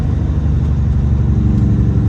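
A semi truck engine after a downshift to sixteenth gear, loaded heavy on a highway, gives a close, steady low diesel rumble with a constant rhythmic throb and no talk.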